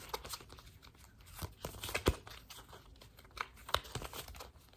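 Quick crisp riffling and crinkly snaps of cards being shuffled close by, in irregular bursts with a couple of sharper flicks, no voices.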